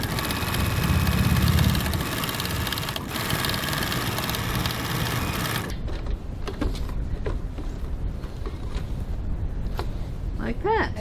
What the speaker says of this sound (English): We're going to stitch 3mm 1/8 inch from the seam line on the top side